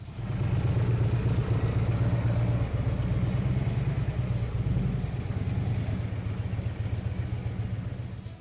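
A Harley-Davidson Electra Glide motorcycle engine rumbles steadily and loudly up close, a deep, continuous low throb that holds even throughout with no voices.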